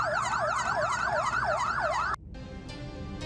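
An ambulance siren wails loudly and close in a rapid rising-and-falling cycle, then stops abruptly, leaving quieter road noise.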